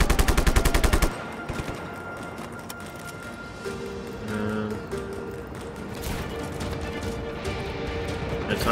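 Turret gunfire in the video game Just Cause: a rapid machine-gun burst opens loud and then cuts off, leaving game ambience, tones and scattered distant effects.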